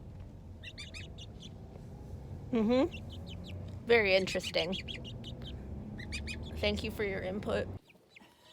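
A pet parrot squawks and chatters from the back of a car, several sharp, rising calls in bursts at close range over a low road rumble, with a person talking in between.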